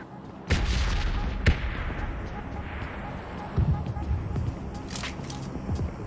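Video game gunfire in a shooter match, booming shots and a couple of sharp cracks ringing out over ambient battle noise, heard beneath excited talking from players.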